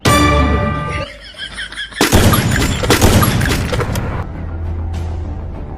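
Gunfire from the video game Free Fire, including sniper shots. Sharp, loud shots and a rapid burst of fire crackle over a droning tone, then fade into a steady low rumble.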